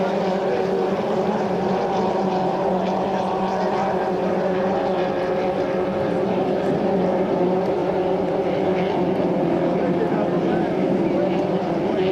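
2.5-litre racing hydroplanes roaring through a heat race at St-Félicien, a dense continuous engine drone heard from a distance, with a French commentator talking over it throughout.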